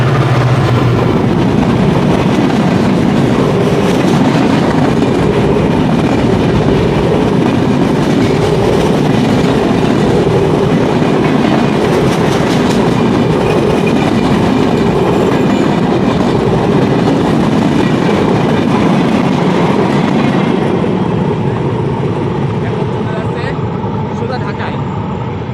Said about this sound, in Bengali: এই যে ট্রেন আসতেছে, এই যে গাইস রূপসী বাংলা এক্সপ্রেস দেখেন